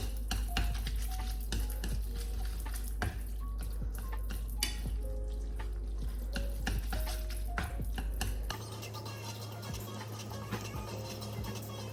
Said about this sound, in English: So I'm mixing them good together, so everything is in balance with the sauce and the powder.